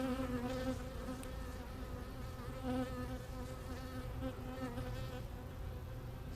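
Honey bees buzz thickly around an open hive during routine hive work, a steady, close swarm drone that holds without pause throughout.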